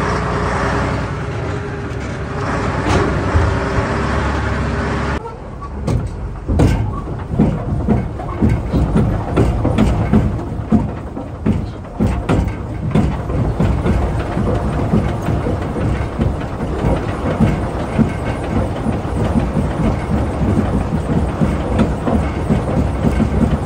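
A Centurion MK3 tank engine runs on its first start in years: a loud, rough, rumbling idle with rapid clattering pulses, following a few seconds of a steadier mechanical roar.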